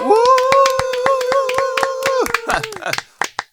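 A lively round of clapping for a contestant on a Nigerian film game show, many hands beating fast and loud alongside sustained tonal sounds, then breaking into scattered claps that fade out.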